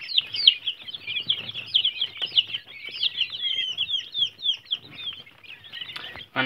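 Busy, overlapping bird calls from a flock of quails and chickens, steady high-pitched chirps with low clucks, ending in a brief rustle.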